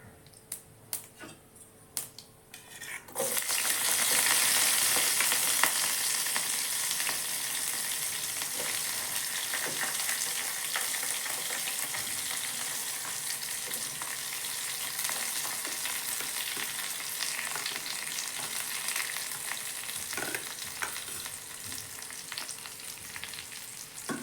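Liver gravy frying in a pan after garlic cloves, shallots, tomato and curry leaves go in, a loud steady sizzle that bursts up after a few quiet seconds and holds with faint stirring clicks throughout.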